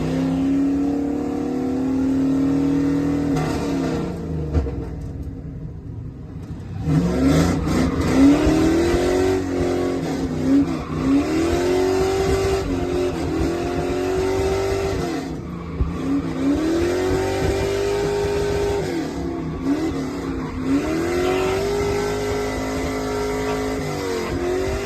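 A drift car's engine revs hard on the track at Kil-Kare Raceway, running on fresh Accelera tires; loud, rising and falling revs come in repeated waves with bursts of tire squeal, close by and continuous, with no talking.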